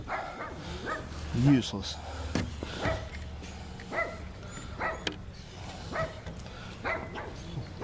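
A dog barks in short bursts spread across the clip, somewhat distant, while someone talks over them in a garage during a 1973-76 Mopar A-body heater core replacement.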